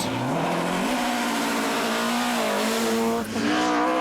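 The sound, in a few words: Ford Escort Mark II rally car driven flat out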